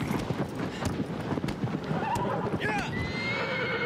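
A horse gallops with rapid hoof clip-clops and then gives a loud whinny while jumping in the video game Shadow of the Colossus on PS4 Pro, the hoofbeats quick and close before the neigh rises clearly near the end.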